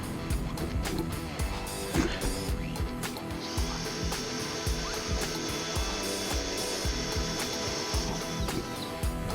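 Power drill boring out a broken bolt on a car or bike part, a steady whirring motor with a thin high whine, interrupted by small clicks and knocks of the bit working the metal.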